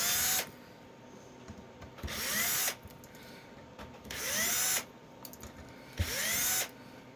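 Power drill driving screws into a resin printer vat, four separate short whirring bursts spaced about two seconds apart, close and loud, with small clicks and handling noise between them.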